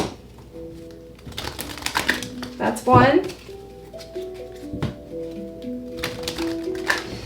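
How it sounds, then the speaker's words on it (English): An oracle card deck is shuffled by hand: quick papery riffles and flicks, with one dense burst in the middle, while someone talks throughout. "2 more shuffles."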